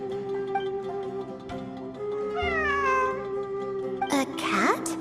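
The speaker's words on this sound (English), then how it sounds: "It really is a cat." A cat meows in the video game Genshin Impact, with rising and falling cries over steady game music, and a louder, brighter burst near the end.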